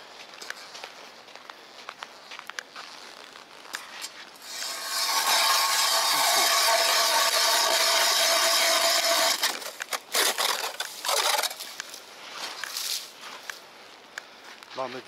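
A hole being made through lake ice late in the ice season: a loud, continuous grinding roar lasts about five seconds, framed by scattered scrapes, crunches and footsteps on the ice before and after.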